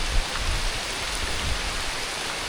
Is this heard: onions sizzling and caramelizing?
no